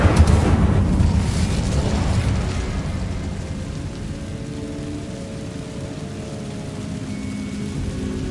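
The Incendio fire spell is cast in Hogwarts Legacy with a loud, broad roaring whoosh of flame that bursts at once, then slowly fades into a steady crackling rumble that lingers to the end, with no talk.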